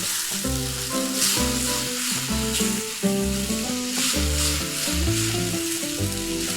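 Chopped tomatoes sizzle in a pan as the base for paneer butter masala, a continuous hiss running beneath loud, rhythmic background music throughout.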